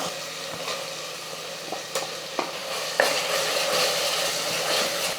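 Mint and coriander masala paste sizzles in hot oil in a pan, a steady frying hiss broken by a few sharp scrapes and taps of a stirring spoon, close and continuous without talk.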